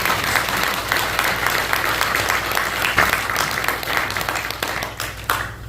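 A church congregation applauds a newly installed pastor at a Korean Presbyterian installation service, giving a full, sustained round of clapping that thins slightly toward the end, with a low hum underneath.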